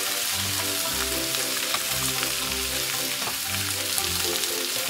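Meat and vegetables sizzle steadily in a hot pan while being stirred, with continuous frying hiss and recurring low scraping strokes throughout, no talking.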